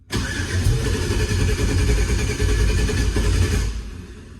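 A budget LS-swapped car engine cranks briefly, then catches and settles into a steady, loud idle close by that runs for several seconds before easing off at the end, with no talking.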